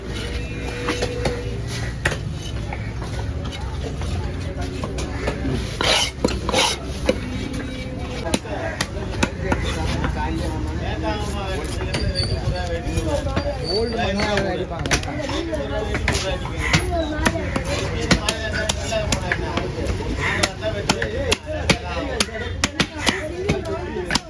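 A fish is chopped into round pieces at a busy Kasimedu fish market, with rapid, repeated sharp knife strikes on a block over constant crowd chatter and market noise, while people talk throughout.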